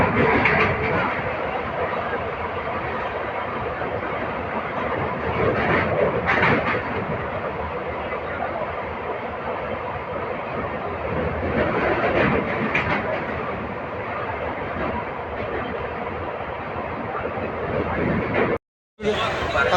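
A passenger train bound for Kamakhya runs steadily on its rails, giving a continuous close rumble and rattle from start to end, with a crowd's murmur of voices mixed in throughout.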